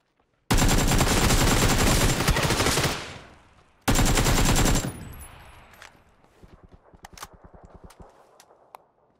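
Automatic gunfire in PUBG on Xbox One X: two long, loud, sustained bursts of rapid shots separated by a short gap, then fainter scattered footsteps and clattering with no voices.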